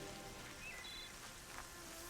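Steady rain hisses across the landscape in Horizon Zero Dawn, an even wash of drops with faint bird chirps mixed in.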